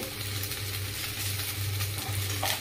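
Vegetables sizzle steadily as they fry in a pan, with occasional stirring scrapes, a continuous close hiss and no talking.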